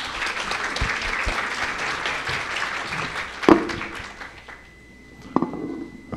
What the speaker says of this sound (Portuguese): Uma salva de palmas a essa equipe.